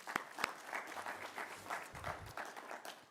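After a presentation at an AI conference, an audience applauds in a short, fairly quiet burst of steady clapping that carries on evenly throughout.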